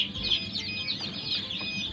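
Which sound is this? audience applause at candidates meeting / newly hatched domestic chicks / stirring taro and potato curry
newly hatched domestic chicks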